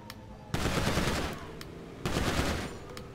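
Weapons firing in a video game: two loud bursts of rapid automatic gunfire, each lasting about a second and a half, with a short pause between them.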